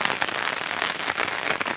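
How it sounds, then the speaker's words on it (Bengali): Rain falls in Brahmanbaria, Bangladesh, wetting the ground as a dense, even hiss of drops that stays steady and moderately loud throughout. "এই যে দেখেন বৃষ্টি হচ্ছে"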